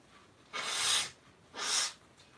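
Two forceful nose blows, each a breathy, hissing burst lasting under half a second, with a short pause between them, close and fairly quiet.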